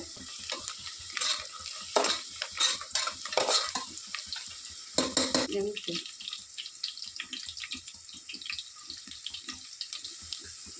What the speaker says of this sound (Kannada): ಈರುಳ್ಳಿ ಚೆನ್ನಾಗಿ ಬ್ರೌನ್ ಕಲರ್ ಬರೋ ತನಕ ಎಣ್ಣೆಯಲ್ಲಿ ಹುರ್ಕೊಳ್ಳೋಣ